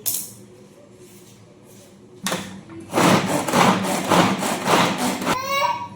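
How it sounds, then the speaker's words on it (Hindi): A kitchen knife chops onions for poha and mushroom curry, with a sharp clatter followed by a quick run of close, rhythmic thuds on a board. "और प्याज मैं पोहे के लिए भी काट दूंगी, ऊपर डालने के लिए वो भी काट रही हूँ साथ में"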